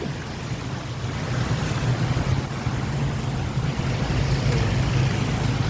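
Floodwater rushing after a typhoon in Bicol, past flooded houses and a broken flood control structure, as a steady, loud, continuous wash and roar with no talk.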